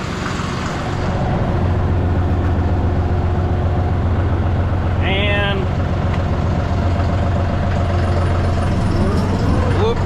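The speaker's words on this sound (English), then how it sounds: "we'll let this tractor warm up a minute or two and go get the backhoe hooked up" A tractor engine idles while warming up, a steady, loud diesel drone with a constant low hum throughout, and a brief squeal in the middle; a voice is faintly present.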